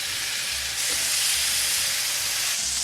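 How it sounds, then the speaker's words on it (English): Steaks searing in hot oil in a pan, a loud, dense, continuous sizzling hiss close up that swells slightly partway through, no talking. "Oil, nice hot oil. And lay our steaks away from ourselves."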